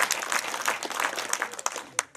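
Audience applause at a French veterans' association congress in Garlin, steady dense clapping from a hall full of people with a few sharper individual claps standing out.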